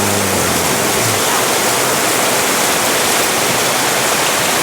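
Heavy rain pouring as a loud, dense, unbroken hiss close by, steady for the whole stretch, with a brief low hum at the start and no voices.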